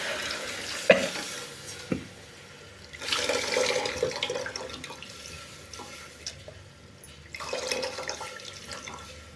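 Tamarind juice poured into a pot of pepper rasam with plenty of tomato, heard as a few bursts of close liquid splashing and trickling, separated by quieter pauses.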